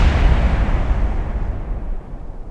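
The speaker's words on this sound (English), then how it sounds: "I wasn't expecting an explosion." A crashing rocket explodes in a space-building video game with a loud, close, booming blast that rolls on as a deep rumble and slowly fades away.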